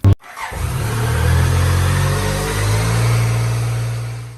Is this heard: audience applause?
no